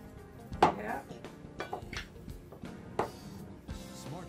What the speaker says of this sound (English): Sprinkle the cornstarch and kind of stir it up in here